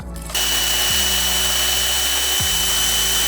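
A power drill running steadily close up, boring a pilot hole into the head of a one-way screw, a loud continuous whine that dips briefly twice as the bit bites, with no talk.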